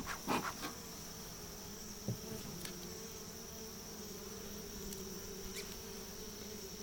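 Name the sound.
bees buzzing around a beekeeper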